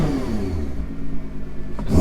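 A car engine revs up, a close mid-pitched roar that climbs and holds for about two seconds before a sharp rise at the end, with no talking.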